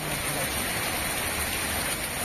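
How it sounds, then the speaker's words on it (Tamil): Steady moderate rain falling in Tiruvallur district on an evening, a continuous dense hiss of drops on surfaces, fairly loud and unbroken, with no voices. "திருவள்ளூர் மாவட்டத்தில் 2வது நாளாக மாலை நேரத்தில் மழை பெய்தது."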